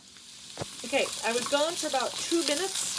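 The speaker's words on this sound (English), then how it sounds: "You can hear it nice and sizzling right now." Carrots sizzle while being sautéed in a pan, a steady bright hiss running underneath a person speaking close by.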